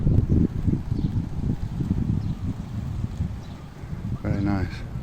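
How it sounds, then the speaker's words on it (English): Gusty wind buffets the microphone on a bridge in Nong Prajak Park, a continuous low rumbling roar that fluctuates in strength, with a person's voice briefly heard near the end. "it's very windy here, so I might have to pause this"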